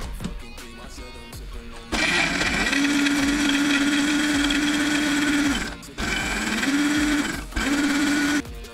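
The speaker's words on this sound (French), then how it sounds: "il ne reste plus qu'à blender et on va mixer" A kitchen blender mixes a cocoa protein smoothie with a loud, steady whir that runs for several seconds, cuts out briefly, then restarts in short pulses.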